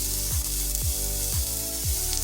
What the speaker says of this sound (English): Once the olive oil has heated up, we're going to go ahead and add our onions and our garlic.